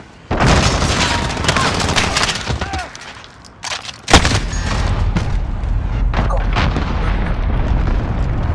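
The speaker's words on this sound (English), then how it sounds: "Allied cruise missile away." A cruise missile strike lands amid battle sounds in the video game Modern Warfare: steady rattling gunfire, then a brief lull, then a heavy boom, followed by continuous rumbling explosions and shots.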